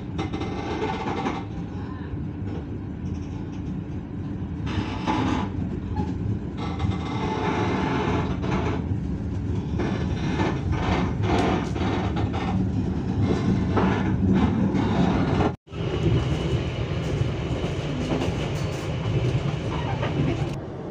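A KA Jayakarta passenger train rumbles along the rails in Indonesia with steady low noise and rhythmic clatter, briefly cutting out near the end; faint voices sit underneath.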